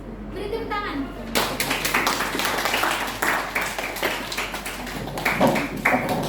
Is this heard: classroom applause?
yes